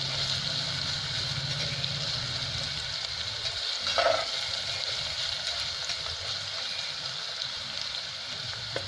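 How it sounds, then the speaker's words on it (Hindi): Onions frying in a pan with salt added, cooking until lightly pink; a steady, soft sizzle runs throughout at moderate level, with a brief stir or clatter partway through and no talking. "प्याज भुनी जा रही है"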